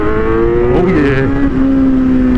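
A Kawasaki Z900 motorcycle with a Brock's Performance ECU flash tune pulls hard at full throttle, its engine note a loud, continuous harmonic drone that dips and climbs in pitch as it accelerates.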